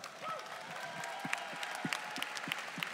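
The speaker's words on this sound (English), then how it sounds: "Give him a round of applause." Scattered audience clapping at a business talk honoring a Jeunesse double diamond director, fairly faint and uneven, with individual claps popping out over a low room murmur.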